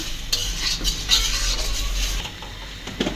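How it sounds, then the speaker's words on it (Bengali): Spices fry in a pan while a spoon stirs them, giving a close, continuous sizzle broken by scraping strokes and a few light clinks. "একটু আর একটু নাড়াচাড়া করতেছি"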